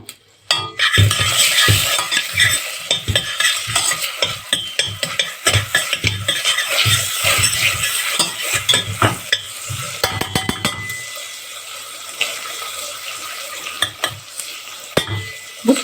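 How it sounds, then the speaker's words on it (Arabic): Garlic dropped into hot butter in a pan sizzles loudly and steadily, with frequent clinks and scrapes of a utensil against the pan, the frying easing off toward the end, no voices. "طبعا انزل على طول بالتومه."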